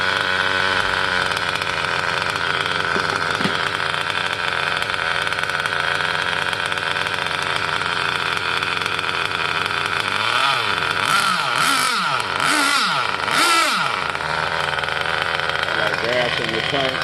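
Redcat Dunerunner RC car with a gas engine idling steadily while warming up, a continuous buzzy drone with a few rising revs near the end, with voices over it.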